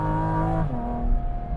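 A loud, close Porsche GT4 RS engine drones steadily, its pitch dropping slightly as the revs shift, with a rich, throaty roar throughout.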